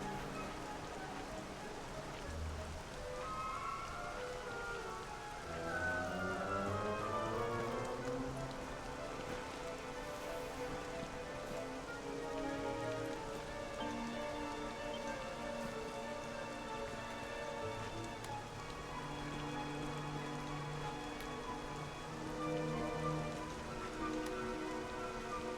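Steady rain patters continuously over a surface throughout, a constant wash of moderate loudness, with tonal music or drawn-out tones sliding above it and no clear voices.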